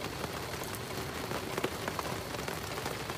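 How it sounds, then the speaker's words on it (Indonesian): Steady rain falls at a campsite in the hills of Mega Mendung near Bogor, a dense, continuous patter on surfaces close by with no voices over it. "Mau keluar tapi hujan."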